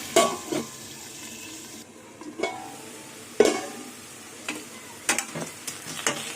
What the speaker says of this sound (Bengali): এবার পেঁয়াজ দিয়ে আলু দিয়ে আবার কিছুক্ষণ ভাজবো